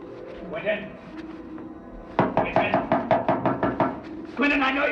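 A fist bangs on a door about a dozen times in quick, loud succession, mid-range and close, with people talking before and after the knocking.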